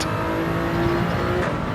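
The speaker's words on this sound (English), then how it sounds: "So I'm just revving it a bit more to build up the acceleration." Gr.3 race car engine in Gran Turismo 7 revving steadily at high pitch, a loud continuous drone with a sustained tone that climbs slightly before easing near the end, no voices over it.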